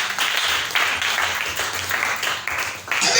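A church congregation applauding to acclaim the Lord: steady, fairly close clapping from many hands, rising and falling in waves for a few seconds.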